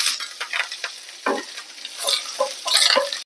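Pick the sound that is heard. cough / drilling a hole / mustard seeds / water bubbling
mustard seeds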